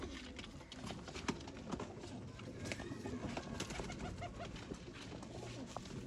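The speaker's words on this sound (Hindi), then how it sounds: "टैडी कबूतर दोस्तों।" Teddy pigeons coo softly, low repeated calls under a faint background of rustling and scattered knocks, quiet and close with no clear speech.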